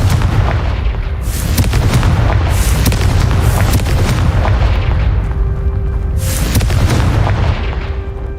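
A blasting spell explosion in Hogwarts Legacy, heard as loud booming game blasts with thudding low-end bursts over continuous rumbling action sound, several impacts spread across the stretch.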